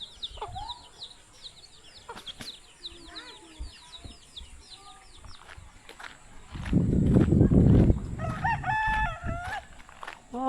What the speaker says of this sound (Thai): โอ้เสียงไก่ขันม่วนขนาด